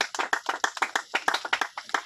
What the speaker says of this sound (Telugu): గట్టిగా చప్పట్లు కొట్టి